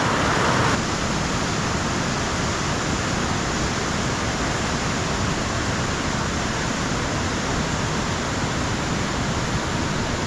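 A mountain trout stream in the Appalachians rushes over a natural water slide above a deep run, producing a loud, continuous broadband roar of flowing water close by.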